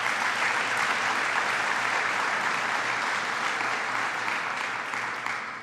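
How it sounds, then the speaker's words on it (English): An audience at a New York governor's press event on alcoholic beverage legislation gives sustained applause, a thick, even roar of many hands that holds steady and then tapers slightly at the end. "One more round of applause for Three Heads."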